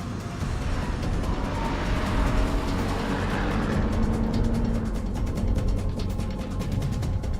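A race car at speed on a circuit lap, its engine a loud, continuous close roar that holds steady throughout with slight shifts in pitch, no voices heard.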